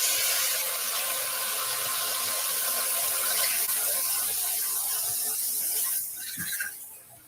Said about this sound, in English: So instead of that little pinpoint spray or wide angle spray, this rotates.